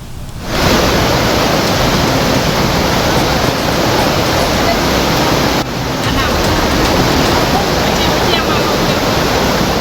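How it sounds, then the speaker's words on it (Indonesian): Floodwater from the overflowing Batang Kuranji river in Padang, West Sumatra, rushes in a loud, unbroken roar of churning water, close and steady, briefly dipping mid-way before continuing. "Luapan Sungai Batang Kuranji merendam permukiman warga hingga memutus akses jalan"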